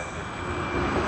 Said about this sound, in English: here you are, Japan Airlines JL51 on the Boeing 787-8 Dreamliner.